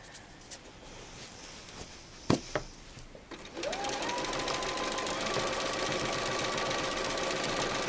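A sewing machine free-motion quilting around tulip shapes on a quilt, a steady close whirring hum that starts after a few handling knocks and then runs continuously.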